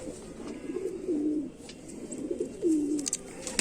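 A Kamagar pigeon hen gives soft, rolling coos, two or three low phrases in a few seconds, close but faint over a quiet background.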